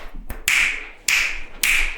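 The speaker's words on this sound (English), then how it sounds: "You snap so much louder than I do." Three sharp, close finger snaps, each crisp and bright, spaced roughly half a second apart with brief quiet between them.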